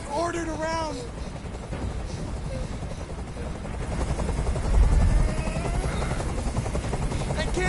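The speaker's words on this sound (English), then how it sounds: "I can't stand that noise anymore. Tell that helicopter to get out of here." Helicopter in the video game Detroit: Become Human, a constant rotor thrum that swells louder midway, heard beneath voices.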